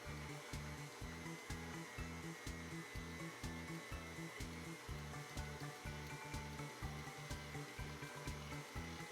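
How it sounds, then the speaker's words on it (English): An electric stand mixer kneading a soft sweet-roll dough, running as a steady motor hum with a regular rhythmic thumping churn, close and continuous, with no voices. "Gradually increase the speed of your mixer until everything is nicely combined and you have a nice soft dough ball."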